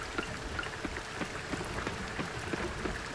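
Rain falls in the farming video game Coral Island as a steady, moderate patter of drops with soft repeated ticks on surfaces, even and continuous throughout with no voices.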